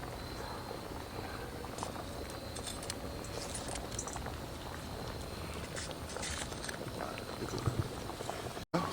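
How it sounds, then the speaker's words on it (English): Rice and water boil on high heat in a pot, a steady dense bubbling and simmering that continues throughout at moderate loudness, with faint kitchen noise in the background. "So I'm just letting it bubble up on high until the water starts to reduce"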